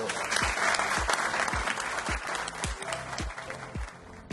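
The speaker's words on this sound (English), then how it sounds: "So a quick round of applause for her." A parish community event attended by Navy guests erupts in sustained audience applause for the Navy's first female submarine chief of the boat, dense and steady, with faint voices murmuring low underneath before it tapers slightly near the end.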